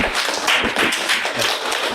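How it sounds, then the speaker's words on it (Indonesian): Brief burst of clapping from a small classroom of students, quick scattered hand claps at close range lasting a couple of seconds. "Oke, tepuk tangan buat teman kita."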